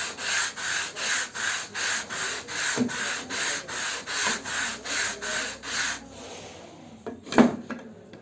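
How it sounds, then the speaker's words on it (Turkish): Sandpaper is rubbed back and forth across the wooden surface of a fretless classical guitar in a steady rhythm of about a dozen even strokes, close and loud, then stopping, followed by a couple of knocks. "bu yüzeyin hepsini zımparalıyorsunuz"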